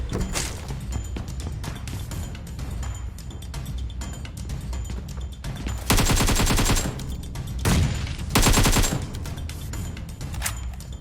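Gunfire in PUBG Mobile crackles with rapid automatic bursts, two loud dense volleys after a stretch of quieter game ambience, fairly close and without talk.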